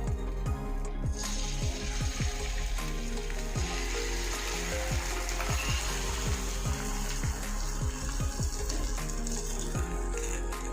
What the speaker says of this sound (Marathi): आपण तव्यावरती ह्याच्यावरतीच हे अंडं टाकायचं